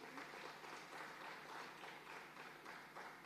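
An audience at a memorial lecture event breaks into steady, faint applause, the many hands making a continuous, evenly pulsing clatter heard from a distance.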